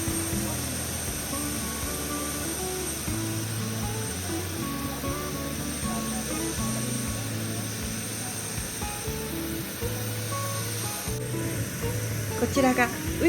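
A Boeing 737-800 at Uyuni's La Joya Andina airport, its engines holding a steady, fairly distant whine and roar with a low droning hum, continuous throughout and swelling slightly at the close.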